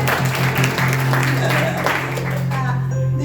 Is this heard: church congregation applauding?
yes